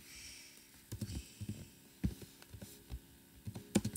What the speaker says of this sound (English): he types in the words code club projects